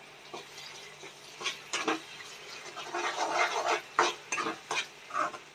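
Ginger garlic paste is stirred in a hot pan for a cauliflower curry, with repeated scraping strokes of a spoon against the pan over a faint background sizzle, close by and irregular in rhythm.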